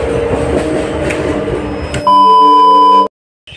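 Last local train at night near Jhargram, a loud steady rumble of the running carriage, then a sustained electronic tone for about a second before the sound cuts out abruptly.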